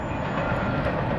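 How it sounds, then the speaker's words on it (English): A long freight train of about 200 cars rumbles past close by, a dense continuous roar of rolling wheels and rattling cars filling the whole moment. "one gigantic train there."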